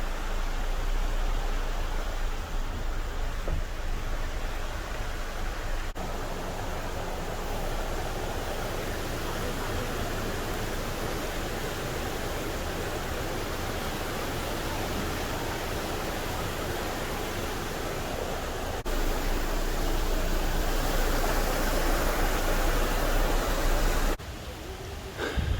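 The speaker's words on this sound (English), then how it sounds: "A waterfall or a cascade coming through there." Rushing water from a waterfall cascading beside the Roaring Fork trail, a steady broadband roar that holds evenly throughout with brief dips near the end.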